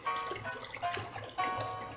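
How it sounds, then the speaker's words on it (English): Hands swish and stir bath water to work up bubbles from a Lush bubble bar, soft sloshing strokes in a few gentle surges, quiet and close with no talk. "One of the tricks for getting the most out of your bubbles and bubble bath is just massaging the water."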